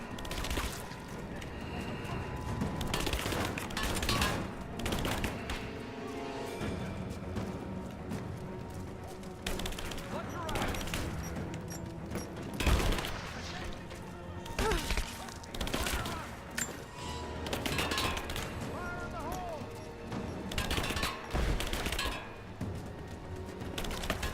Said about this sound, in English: Someone's here! What was that? I'm under fire!